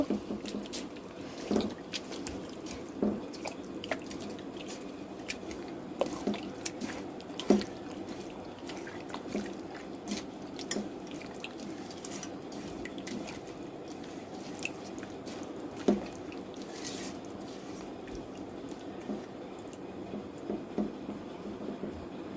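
Hands squishing and kneading a mutton biryani marinade of fried onion, ginger and oil, a soft wet rhythmic squelching with occasional sticky clicks, close and fairly quiet.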